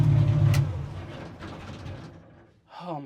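A 1955 Chevy gasser engine, revived after sitting for 55 years, idles with a loud, rough rumble. It fades out as the engine is switched off and is followed by a brief quiet, then a short vocal sound.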